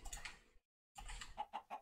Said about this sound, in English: I did capture a chicken here, and he's getting us some eggs.